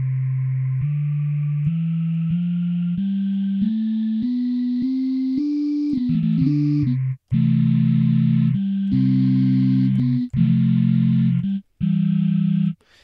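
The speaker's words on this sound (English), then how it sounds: "So the white noise is now following along" White noise from the Bitwig Studio noise generator tracks played notes, rising step by step in a steady pitched series before turning into louder, buzzier sustained chords with brief cut-offs between them.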